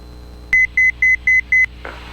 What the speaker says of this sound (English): Autopilot buzzer.